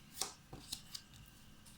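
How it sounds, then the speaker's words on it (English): Tarot cards being shuffled by hand, giving a handful of soft, crisp riffling snaps spaced irregularly over a quiet background, close and fairly faint. "There's some people like to see the shuffling"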